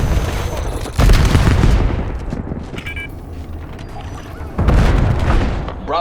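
Heavy bursts of gunfire in the Call of Duty Black Ops 7 video game, two loud close volleys separated by a quieter stretch, with faint in-game voices in the mix.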